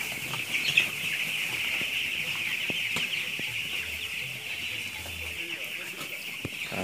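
Thirsty broiler chickens in a poultry house cluck and murmur steadily as a dense flock, with a constant high chorus of calls and occasional clicks and knocks, no one talking over them.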